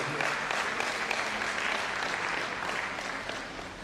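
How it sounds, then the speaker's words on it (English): Applause from the audience at a university inaugural lecture, a sustained round of clapping heard in the hall that slowly tapers off. "Please give a round of applause."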